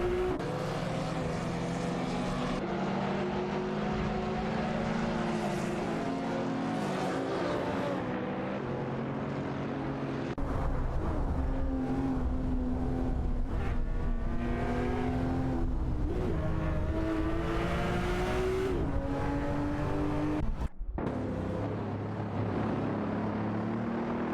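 Porsche 996 race car in a racing video game, engine revving continuously with rising gear-change pitch sweeps, loud and steady with other cars' engines layered around it.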